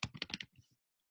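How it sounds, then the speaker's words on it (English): About half a dozen quick computer-keyboard keystrokes clatter close by, then a couple of softer taps and silence. "typing something simple."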